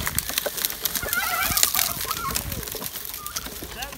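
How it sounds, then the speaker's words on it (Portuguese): Several turkeys gobble and cluck in short, overlapping bursts nearby, amid outdoor noise, with a faint voice now and then. "Eita, os perus!"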